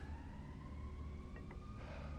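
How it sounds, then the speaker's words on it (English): A faint wailing emergency siren drifts in the distance of a Little Hope game scene, a steady rising and falling tone beneath a low ambient rumble. "the siren in the background"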